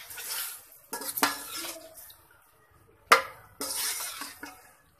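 Spaghetti sauce being stirred together with ketchup in a pan for a chicken vegetable spaghetti, heard as close metal-on-pan scrapes and clinks in short bursts separated by brief quiet gaps.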